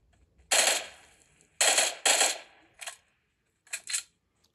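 Several sharp, hissy gunshot cracks from PUBG Mobile go off in short bursts with gaps between them, fairly close, followed by a pair of quicker shots.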